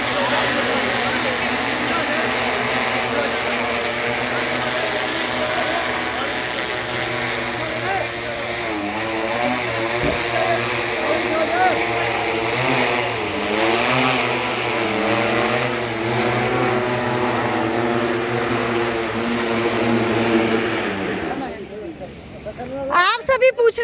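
An agricultural crop-spraying aircraft coming in to land over farm fields, its propeller engine a loud, steady drone with a shifting pitch for about twenty seconds before it drops away. People talk over the engine noise.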